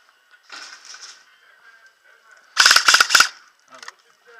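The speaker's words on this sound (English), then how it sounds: "Watch out for these stray shots coming through." Airsoft guns fire in an indoor arena, a quick burst of sharp cracks followed by a louder rapid volley, fairly close, with gear noise between.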